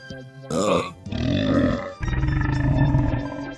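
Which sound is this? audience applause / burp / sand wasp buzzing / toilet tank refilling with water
burp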